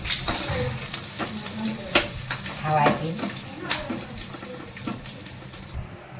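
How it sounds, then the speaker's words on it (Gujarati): Oil sizzles and crackles steadily in a pan as chillies fry, with a brief spoken phrase near the start over the frying. "હું અહીંયા મરચાંને એવું તળું છું"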